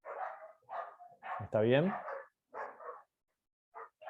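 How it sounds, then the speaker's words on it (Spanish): Dogs bark repeatedly at close range, several sharp barks in a burst amid a Spanish-speaking voice that talks before and after. "voy a cerrar la ventana porque les agarró un ataque a los perros"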